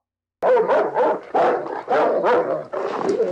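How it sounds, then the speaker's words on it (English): Dog barking in the 1971 film The Mephisto Waltz, a run of loud, close barks in quick bursts of four or five with short gaps between them, mixed with yipping and whimpering tones and no talk. "That and the fact that Duncan's dog seems to despise Paula"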